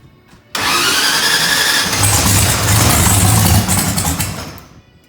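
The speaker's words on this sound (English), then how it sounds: "Now try to start it." A procharged Ford Mustang engine, being restarted after a crash, cranks and catches with a sudden loud roar, then runs rough and heavy close by for several seconds before easing down.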